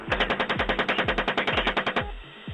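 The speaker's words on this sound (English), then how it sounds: "Iraq opening fire on a group of suspected insurgents who were standing on a street corner in Baghdad." Rapid bursts of heavy automatic gunfire from an attack helicopter over a Baghdad street, about twenty evenly spaced booming shots over two seconds, loud and close, then stopping abruptly.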